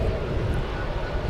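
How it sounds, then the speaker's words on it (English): A UPS Boeing 767 jet at DFW Airport at night roars steadily with a broad, dense engine rumble, loud and continuous with no talk over it. "This is UPS flight 5798. It's going to San Antonio, Texas. A short trip for a 767"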